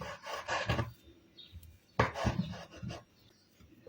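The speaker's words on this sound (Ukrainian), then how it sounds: "Беру ці два налисники і ріжу, як лапшу." A knife slices through rolled-up thin crepes on a board, cutting them into noodle-like strips: two close bursts of rapid, rasping chops and scrapes separated by a brief pause, fairly soft.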